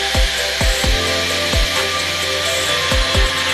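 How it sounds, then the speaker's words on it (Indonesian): Electric drill boring into a wall for mounting wooden shelves, a steady buzzing whine close by, its motor speed dipping briefly several times as the bit bites. "Dengan bantuan alat bor, saya melakukan pengeboran dinding."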